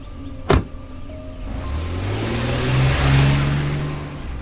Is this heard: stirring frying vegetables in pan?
no